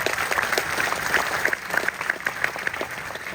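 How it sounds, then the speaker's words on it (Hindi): Audience applause at a college drama performance, steady dense clapping from a crowd lasting throughout with no talking. "तालियां तो बनती है।"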